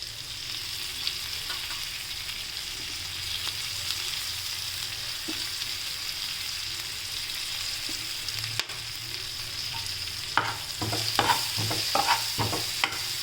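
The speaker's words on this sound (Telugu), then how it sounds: "మునగాకు వేసి బాగా రోస్ట్ చేసుకుందాం" Drumstick leaves roasting in a pan with turmeric make a steady, close sizzle, joined near the end by a run of quick scraping stirs against the pan.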